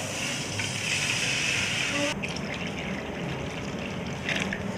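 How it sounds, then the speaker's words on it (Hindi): Water poured into a pot of rice, a steady broadband rush of liquid that shifts in tone partway through as the pot fills, close and fairly loud. "चावलों को पानी में जो जितने चावल थे उस हिसाब से मैं पानी डालूँगी।"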